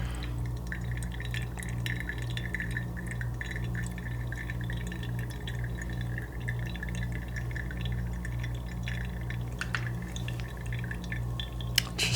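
Water from a coffee brew drips and trickles steadily through the grounds, with soft small splashes and a faint clink near the end, quiet and close with no voices.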